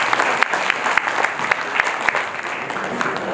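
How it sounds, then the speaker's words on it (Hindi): Enthusiastic crowd applause at an Arya Samaj anniversary gathering, many hands clapping loudly with sharp individual claps standing out, sustained for a few seconds. "जोरदार ताली बजाओ।"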